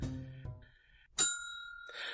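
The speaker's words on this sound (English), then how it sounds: "Somebody hit the bell!" A bright bell dings twice with clear ringing tones that decay, after a brief low thump.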